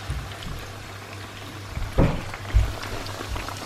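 Chapli kebab patties deep fry in hot oil, a bubbling crackle with a low steady hum beneath and a couple of louder bursts of spattering, close by and free of speech.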